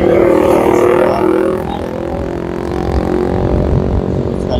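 Road traffic on a trip between Maros and Makassar, with vehicle exhausts and container trucks passing: a loud, continuous engine drone and rumble, heaviest at the start and easing slightly, with no talking.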